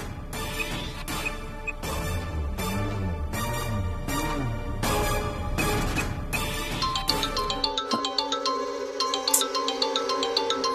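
A phone ringtone repeats in a steady melodic pattern during an outgoing call in a Tamil TV serial scene, ringing clearly and alone for several seconds before a softer tone takes over near the end.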